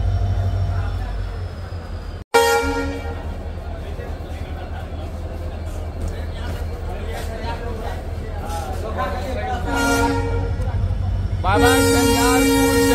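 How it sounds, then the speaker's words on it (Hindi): A train on the new Jhanjharpur–Laukaha service pulls out of Jhanjharpur Junction, rumbling steadily while its horn gives several short and long blasts. A crowd talks around it. "तो जी निकल चुकी है झंझारपुर जंक्शन से हमारी ट्रेन।"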